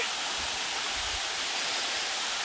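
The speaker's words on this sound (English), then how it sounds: "So I'm at the first falls that you come to" Steady broadband rush of a waterfall at Horseshoe Falls Reserve in the Blue Mountains, the first falls on the track, a continuous dense wash of falling water heard close and alone.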